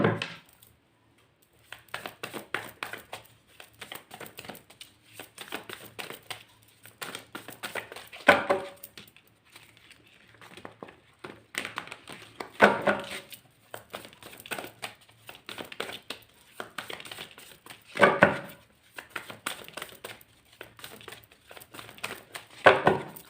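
Tarot cards are shuffled and drawn close up in repeated bursts of riffling, flicking and slapping, separated by brief quiet gaps, with no talking.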